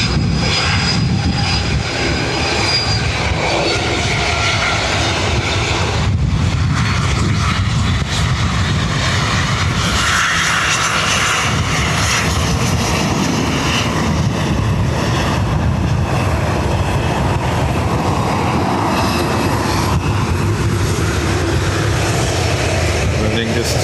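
An airliner takes off at Dublin Airport with a loud, sustained jet roar that stays dense and constant throughout, swelling slightly midway.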